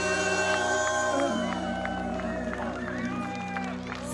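Wedding guests cheer and whoop for the family on a dance floor, a lively crowd noise running over a music backdrop and gradually thinning out.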